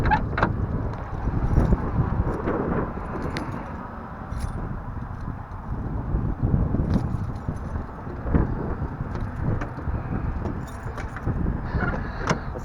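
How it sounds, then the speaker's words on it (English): Gusty wind buffeting outdoors with rustling and low rumble, plus scattered jingling and clopping sounds. "Let's get out of this wind."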